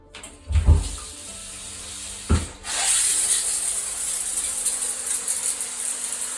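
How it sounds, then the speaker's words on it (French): Water pours steadily from an Aquadea cascade shower head fitted in a hotel shower, a continuous hiss starting after a couple of brief handling knocks. "j'ai une douche cascade qui émet des ions négatifs, de l'eau vivante"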